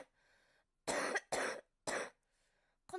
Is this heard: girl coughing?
yes